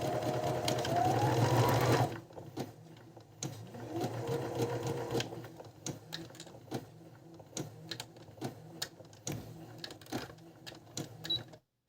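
A Brother RS260 sewing machine with a worn control button stitches a zigzag pattern, starting with a louder whirring run, then continuing in quick, uneven bursts of clicking stitches up close.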